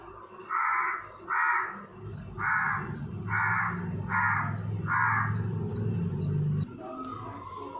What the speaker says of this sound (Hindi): और अब हम आपको कोए की आवाज़ सुनाने जा रहे हैं।